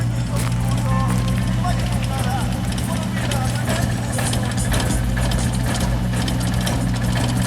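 A Citroën DS competition car's 4-cylinder inline 2.5 litre engine idles steadily at a car show, a constant low mechanical hum with a light ticking texture, nearby and loud, with voices from the crowd mixed in.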